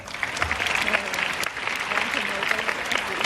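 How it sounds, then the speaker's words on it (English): Audience applause greets a guest at an interview event, a dense, steady wash of clapping held at an even level for about three seconds. "So give FC Ninoy a round of applause."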